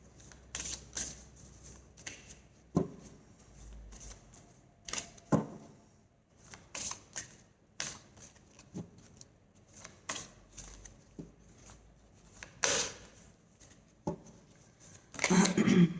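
Tarot cards are handled close up in scattered bursts of riffling, slapping and sliding as the deck is shuffled and cards are drawn, separated by brief quiet gaps.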